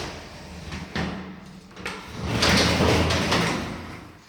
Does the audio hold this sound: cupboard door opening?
yes